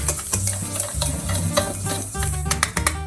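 Sugar is being mixed into pancake batter in a bowl: busy, continuous scraping and swishing strokes with frequent small knocks of the utensil against the sides, close and fairly loud, with no voices.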